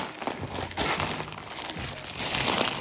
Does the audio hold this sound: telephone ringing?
no